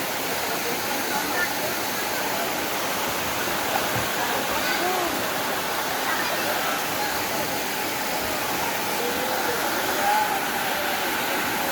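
Caunayan Falls waterfall: a steady, loud, broadband rush of falling water fills the whole stretch without a break, with faint voices of people nearby mixed into the roar.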